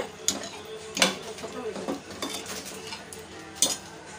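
A spoon stirs tempering into a pot of banana stem and chana dal, producing several sharp metallic clinks against the pot over a soft bubbling sizzle, with irregular scraping between knocks.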